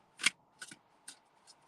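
Tarot cards being shuffled by hand, four short crisp riffling bursts spaced roughly evenly and close up, each fainter than the last.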